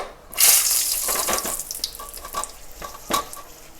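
Dried chilies dropped into hot oil, starting with a sudden loud hiss that settles into busy sizzling and popping, with a few sharp crackles later, close by and without talk.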